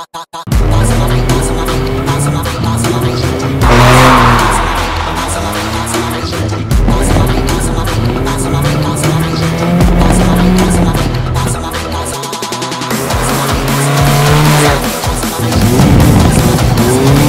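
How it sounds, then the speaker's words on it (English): A Mazda Miata with drift knuckles skids along a stretch of road, its engine roaring loudly as tires squeal in long sweeping bursts with repeated surges of throttle, close and continuous throughout. "So I think it's time to find a nice stretch of road and do some skids."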